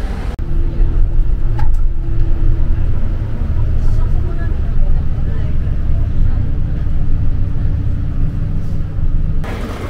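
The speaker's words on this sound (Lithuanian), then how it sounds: "gal jau čia yra mūsų autobusas" A bus pulls up at a stop in Japan's Hakone area, its engine giving a steady low rumble that holds throughout, close and fairly loud, with faint voices in the background.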